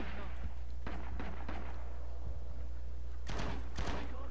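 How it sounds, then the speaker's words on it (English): Gunfire in Red Orchestra: Rising Storm from an M1 Garand rifle: several sharp shots in separate groups, some near and some farther off, over a low constant rumble, with no talking. "I'm confusing them by using an M1 Garand and shooting at them."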